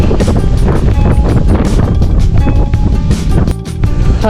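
Strong wind buffets the microphone on a rocky viewpoint road in Kerala, a loud, continuous roar with gusty surges throughout.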